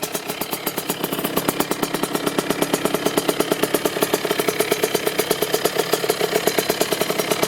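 A 2009 Kawasaki KX65 youth motocross bike idling with a fast, even two-stroke pulse, close and loud, the beat quickening slightly as the throttle comes up.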